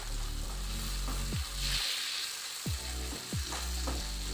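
Noodles and smokies for Indomie frying in oil, with a steady broadband sizzle and several distinct spoon scrapes against the pan, close and fairly loud, no voices.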